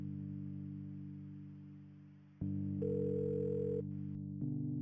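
A steady telephone dial tone hums alone for a phone call to McConnell Air Force Base in the Kathy Rain game, then steps up in pitch and loudness as the line changes, with a brief higher beep.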